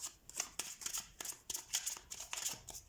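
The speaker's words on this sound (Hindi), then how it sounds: "सबसे पहले हम कार्ड शफल कर लेते हैं आपके लिए सेजिटेरियस।" Tarot cards being shuffled by hand, a run of crisp riffling bursts and soft slaps repeating in quick irregular rhythm, close and fairly quiet, with no talk.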